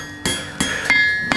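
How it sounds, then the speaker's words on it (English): Hammer blows on steel stock at the edge of an anvil while bending a curl for a courting candle: four sharp metallic strikes with ringing overtones, irregularly spaced, close and clear with no talk. "bring it over the edge of the anvil, give it a slight ding so it looks like that, and then start hammering it towards myself"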